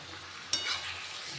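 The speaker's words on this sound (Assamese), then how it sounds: "এতিয়া ইয়াত গোটেই মাংসখিনি এড কৰি দিম।" Goat meat, added to spices already fried, sizzles in a pan with a sharp burst as it goes in, then a steady frying hiss at low-moderate level with no talk.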